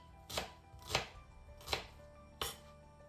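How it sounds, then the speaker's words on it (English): Four sharp knife chops cut through an onion on a cutting board, spaced unevenly about once every half to one second, close and clear with no talking. "Cut the onion into pieces as well."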